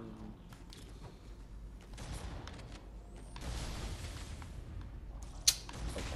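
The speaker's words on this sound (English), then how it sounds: "Overwhelmed by like 8 or 9 of them all shooting at me" Enemy gunfire in the video game Halo, several shooters firing at once in a dense, continuous clatter with a sharp louder crack near the end.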